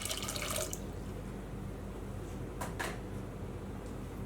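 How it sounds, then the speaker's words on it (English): Cold water poured into a saucepan of white sugar for a lemon syrup, a soft steady running-water pour from a tap or jug, close by with a brief splash at the start and faint clinks. "To this we're going to add 1 cup of cold water."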